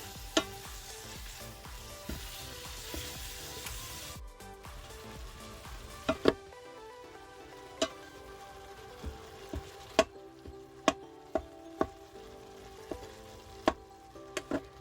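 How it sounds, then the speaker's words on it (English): Meat sautéing in an Instant Pot for spaghetti, a soft sizzle that drops quieter partway, punctuated by a dozen sharp, evenly spaced clicks and taps from a utensil against the pot, no talk. "We're going to saute this until this is all completely cooked."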